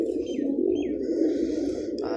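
Pigeons kept as a flock of flying birds coo steadily in a low, continuous murmur, with a few faint chirps above and a brief sharper call near the end, close and unbroken throughout.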